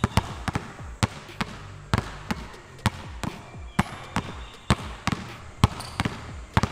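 A basketball is dribbled in a warm-up drill, bouncing in steady, sharp, close thumps, sometimes in quick doubles, on a hard court, with no talk over it.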